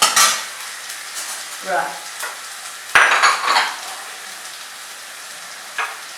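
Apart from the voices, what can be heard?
crushing tomatoes with the back of a spoon in a pan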